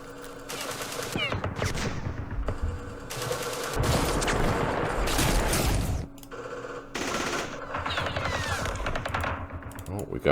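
Bursts of automatic gunfire from the Vietnam war game Campaign Series Vietnam at the Battle of Pleiku 1968, several loud rattling volleys separated by short pauses.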